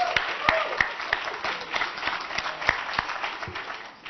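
An audience at a university anniversary event for the psychology department applauds as current students rise, a steady wash of many hands clapping with occasional sharper claps standing out.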